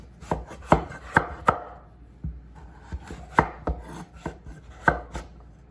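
A knife chops green papaya into squares on a board, giving a series of sharp, uneven close thuds, about a dozen over several seconds, with short pauses between bursts. No voices.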